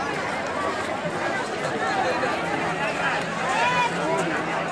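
A large crowd at Dashashwamedh Ghat in Kashi during Satua Sankranti Ganga bathing makes a dense, continuous babble of many voices, with scattered calls and movement close by.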